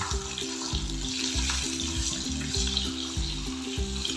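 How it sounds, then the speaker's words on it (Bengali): Pieces of katla fish lightly frying in hot oil in a pan, giving a steady hiss and crackle over low, rhythmic background tones. "একটু হালকাভাবেই ভেজে তুলে নেব"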